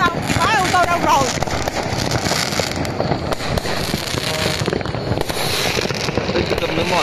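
Dense New Year's Eve fireworks over Munich near the TV tower and Olympic stadium, a continuous barrage of bangs and crackles close by with people talking throughout.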